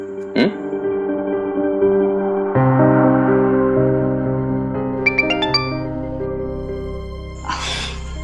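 A mobile phone message notification tone at night indoors: a short bright cluster of chiming beeps cuts in over a sustained musical background score, followed by a brief soft noisy burst near the end.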